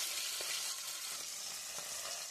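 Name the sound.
bata fish frying in a pan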